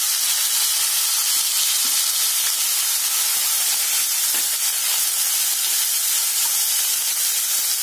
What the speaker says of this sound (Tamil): இப்ப கேரட் பீன்ஸ் போட்டுக்கலாம்